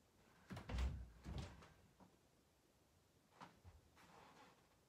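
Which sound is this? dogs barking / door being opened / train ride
door being opened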